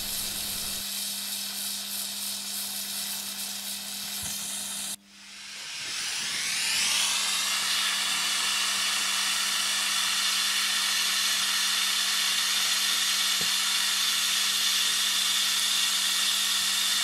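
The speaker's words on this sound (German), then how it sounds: "Der Winkel wird jetzt hart gelötet." Torch brazing a steel angle bracket, the burner igniting abruptly and settling into a steady loud roaring hiss that continues unbroken.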